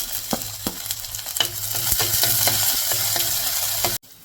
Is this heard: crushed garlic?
yes